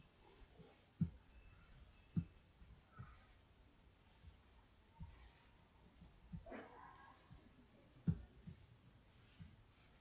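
A computer mouse clicking while SPSS statistics software is operated: a few faint, sharp single clicks spaced seconds apart over a low background hiss.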